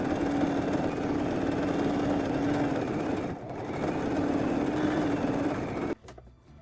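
A sewing machine stitches the waistband of knitted shorts with a continuous, close motor whir. It dips briefly midway, resumes, then stops abruptly, followed by a few light handling clicks.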